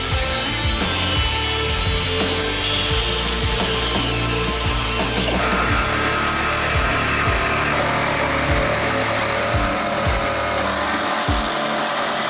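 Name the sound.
cutting back the outer body skin of a Porsche 911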